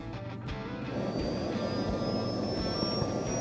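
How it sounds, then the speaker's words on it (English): A small jet engine mounted on a wagon primes and spools up, giving a steady, loud roar with a rising whine over a rumbling low end, heard close and alone. "Let's prime the jet engine."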